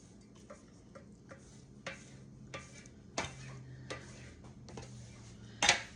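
A knife scores rolled dumpling dough for chicken and dumplings into pieces with a series of light, irregular taps and scrapes against the board. A sharper clack lands near the end, and no one speaks.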